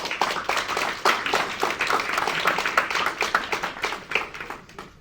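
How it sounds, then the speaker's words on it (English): Audience applause for two speakers at a talk on multiculturalism from a Hindu perspective: steady, dense clapping from a room of people for about five seconds, fading out at the end. "Just a round of applause for our speakers."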